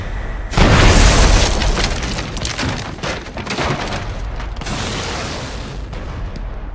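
A cannon fires during a castle siege in the video game Shadow Tactics: Blades of the Shogun, one sudden loud boom followed by a long rumbling, crackling decay of debris.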